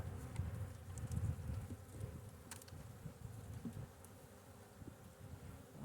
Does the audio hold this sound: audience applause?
no